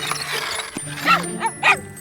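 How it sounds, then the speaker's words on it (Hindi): Torch, a cartoon dog, barks and yips in a few short, close bursts after a brief bit of other sound. "टॉर्च बदमाश कुत्ता।"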